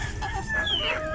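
Free-range chickens nearby cluck and squawk over one another in a brief, busy burst at feeding time, with no talk.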